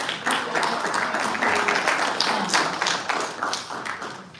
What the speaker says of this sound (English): can we just have an applause for that really quick?